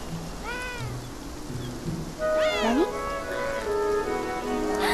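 Cat meows from the video game Beyond Eyes, several rising-falling calls spread across the clip, with a louder, closer meow near the middle, over a steady hiss of rain.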